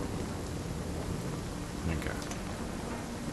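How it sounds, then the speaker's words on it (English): Rain begins falling in the video game Nightingale, a steady hiss of drops that continues throughout, with someone speaking briefly over it. "is it starting to rain now instead?"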